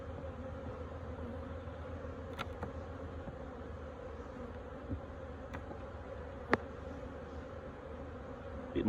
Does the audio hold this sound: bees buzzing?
yes